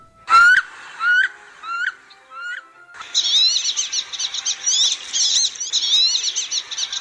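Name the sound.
female and male bird calls, thin whistle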